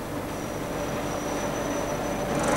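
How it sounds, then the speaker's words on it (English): A disc brake test rig braking at 1500 revs: a continuous mechanical roar with a high, thin squealing tone running through it, steady and loud, as friction heats the spinning disc. "This is a rig for testing disc brakes."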